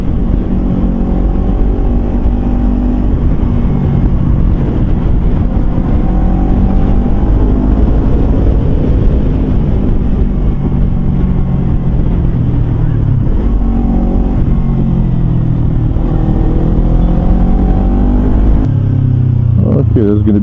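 A Kawasaki Versys X 250 with a Norifumi slip-on exhaust accelerating, a loud continuous engine note climbing in pitch through the gears, with talking over it.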